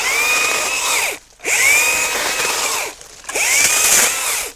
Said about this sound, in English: I will be swinging around the chainsaw just to try and do as much as possible